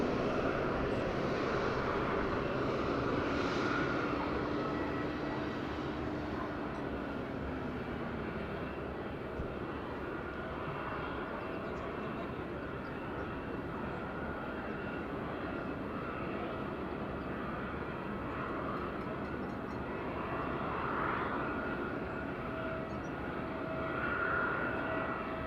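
A BA Euroflyer Airbus A321 at Madeira airport produces a continuous mid-distance engine roar with a faint rising whine, steady and moderately loud, with no voices over it.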